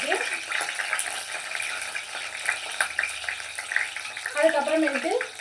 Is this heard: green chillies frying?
yes